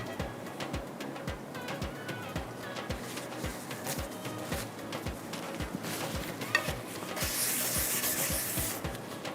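Mutton fries in a handi while a spoon scrapes and stirs it in regular strokes over a constant sizzle. A louder spray of hissing rises near the end.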